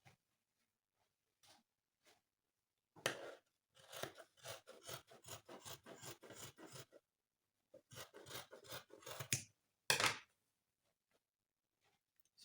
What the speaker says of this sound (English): So I'm just going to cut like so.